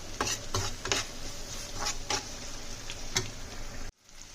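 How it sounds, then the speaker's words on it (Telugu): Ginger garlic paste stirred in a pan, with a steady low sizzle and several sharp scraping or tapping strokes of a spoon against the pan, ending abruptly. "అల్లం వెల్లుల్లి పేస్ట్ బాగా వేగే వరకు ఫ్రై చేసుకోండి."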